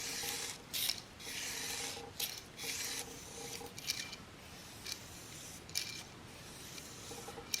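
Magnus 150 single-bevel knife blade drawn across 2500 grit abrasive, a close, steady rasping rub in repeated strokes with brief pauses between passes.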